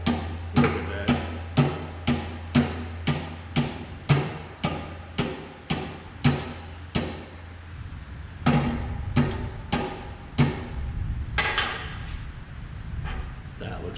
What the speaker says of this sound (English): Take your big American hammer and tap, tap, tap.